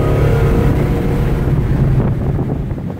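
A 1968 Dodge Charger's engine drones loud and close under kickdown into passing gear, a steady low rumble with wind noise that eases slightly toward the end.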